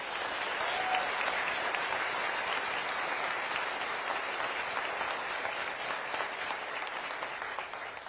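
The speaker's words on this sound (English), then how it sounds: "Can we give them a round of applause?" An audience at the 2025 State of Milwaukee County address applauds the county's homeless outreach workers. The clapping is broad and steady, fairly loud throughout, with a faint murmur of crowd noise beneath it.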